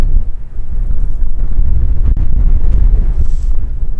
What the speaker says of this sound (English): Wait for this gust of wind to go away.